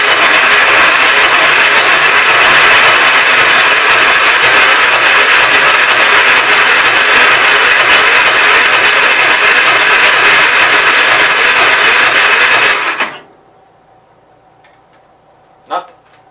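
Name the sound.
Gravely 810 tractor engine being started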